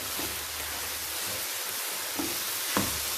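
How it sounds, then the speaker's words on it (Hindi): Beaten eggs are stir-fried with vegetables in a pan for restaurant-style egg fried rice, giving a steady, moderate sizzle with a few brief stirring scrapes. "अब आपको इस सब्जियों के साथ मिक्स कर दें सारे अंडे"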